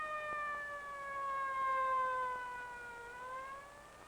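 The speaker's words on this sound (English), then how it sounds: "It's the fire engine." A fire engine siren wails from a distance, its rising and falling tone steady and fairly faint over light background noise, in an old educational film about water.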